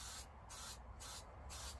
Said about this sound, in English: So spray them all like that. Get a first coat going.